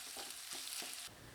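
Sliced onion sizzling in hot oil with curry leaves while making a mushroom masala kurma, a steady bright frying hiss with soft stirring scrapes, close and continuous without talk.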